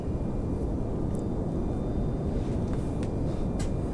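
A spacecraft lifts off slowly in Kerbal Space Program with a steady, loud, low rocket roar that holds unbroken from start to finish, with faint higher ticks over it.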